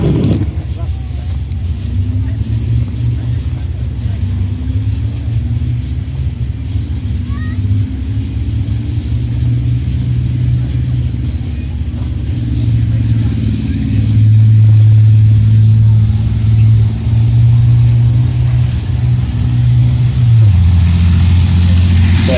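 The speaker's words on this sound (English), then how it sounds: "we can see Titan now coming in at considerable speed for such a large vehicle" A Titan armoured bridge-laying tank drives in fast at a British Army Tankfest display, its heavy engine a steady loud rumble with shifting drone throughout, growing slightly louder near the end.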